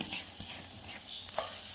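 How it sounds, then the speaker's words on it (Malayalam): Sesame seeds roast in a pan, a soft continuous sizzle with faint stirring scrapes and a small crackle near the end. "നമുക്ക് ഈ എള്ളെല്ലാം കൂടെ ഇട്ട് നന്നായിട്ടൊന്ന് മുരിച്ചെടുക്കാം."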